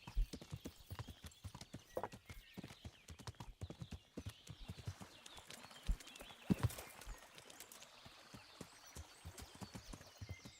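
Horse hooves clip-clop in the video game Kingdom Come: Deliverance, a steady close rhythm of hoofbeats with a brief neigh, fairly quiet.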